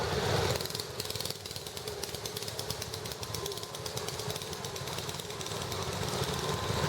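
A 1972 Cub Cadet 109 garden tractor rolls past in a town parade, its small engine putting out a steady, rapid, rattling putter, fairly faint against the outdoor background and without pause.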